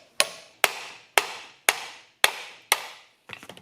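Six sharp, evenly spaced metal hammer taps on the end of an extra-long screw threaded into a Kawasaki KE100 engine case, each ringing briefly and decaying, followed by a cluster of quicker, lighter knocks as the case cracks loose.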